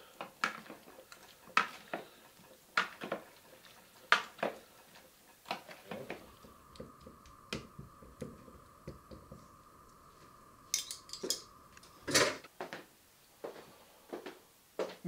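Smoked mackerel and potato salad being mixed in a bowl, with soft repeated clinks and taps of a utensil against the dish, some squishy stirring, and a steady hum in the middle stretch.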